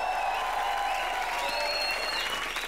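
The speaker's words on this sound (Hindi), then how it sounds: "जोरदार तालियां." Loud, sustained applause from a studio audience on a live Indian TV comedy show, a steady dense wash of clapping filling the whole stretch with no break.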